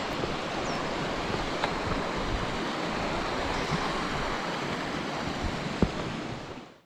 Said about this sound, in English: Absolutely love following babbling rivers.